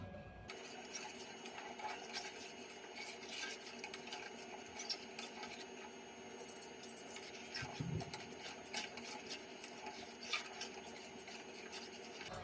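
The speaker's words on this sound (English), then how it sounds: "Once you turn the fire up, you do not want to stop stirring it." A utensil scrapes and swirls steadily through thick country gravy in a pan over raised heat, a close, continuous stirring texture with no pauses.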